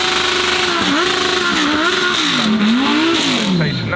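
A BMW M4 GT3 race car accelerating hard at the Goodwood Festival of Speed, its loud engine rising and falling in pitch through quick gear changes, close and continuous for several seconds.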